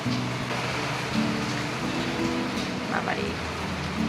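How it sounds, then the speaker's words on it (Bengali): Heavy evening rain pours down outside in a dense, steady hiss with no break, close and loud, while people talk now and then over it. "এত বৃষ্টি হচ্ছে অনেক দিন পরে বৃষ্টি হচ্ছে মানে একদম পুরো ঝমঝমিয়ে বৃষ্টি হচ্ছে"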